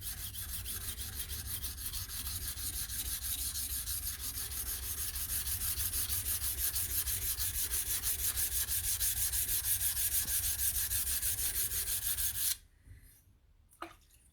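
A Japanese blade's shinogi is ground on a sharpening stone in long longitudinal strokes, making a close, continuous rasping scrape that runs unbroken and then stops abruptly near the end.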